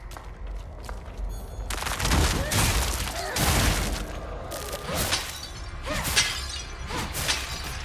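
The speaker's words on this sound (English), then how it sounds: "Why does it make like glass breaking sounds?" Glass shattering in the horror game Silent Hill f, with repeated sharp breaking crashes and scattered debris spread over several seconds at moderate loudness, no voices.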